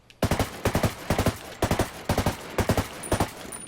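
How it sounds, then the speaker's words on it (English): A rifle fires in three-round bursts in Ghost Recon Wildlands, about seven sharp triple volleys spaced at a steady pace. The shots are loud and close, with no talking. "when I pull the trigger as fast as I can, sometimes it skips and sometimes I get a full mag dump"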